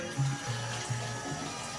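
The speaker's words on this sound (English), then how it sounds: "want to fill this up with water because I don't want it to get sticky." A kitchen tap runs water into a container while butter chicken is being prepared, giving a quiet, steady rushing with a low hum that wavers in a few short pulses, heard alone without talk.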